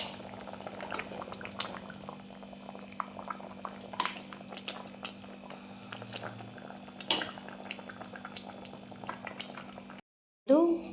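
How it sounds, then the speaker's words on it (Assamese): Mutton simmers in a pot, with a steady bubbling boil and scattered pops and plops close by, followed by a brief silence and a sudden bump at the end. "এনেকৈ বনালে এইখিনি সিজি সিজি মাংসখিনি সিজি যাব, হৈ যাব আমাৰ মাটন।"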